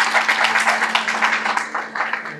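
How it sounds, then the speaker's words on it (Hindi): Applause rises at a Pakistani awards ceremony for Dr Francis Saudagar, a brief burst of many hands clapping together that tapers slightly toward the end. "मैं कहूँगा कि उनके लिए आप सब भरपूर तालियां बजाएं"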